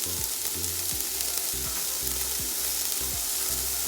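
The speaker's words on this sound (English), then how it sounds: "I'm gonna go in now with my peppers" Peppers and green beans frying for mixed fried rice give a loud, continuous sizzle right up close, with a regular low rhythmic layer underneath and no voices.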